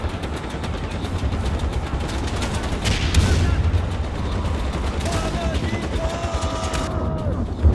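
Rapid bursts of gunfire in Far Cry 4 crackle over a dense, busy background, with a few sharp high tones cutting through.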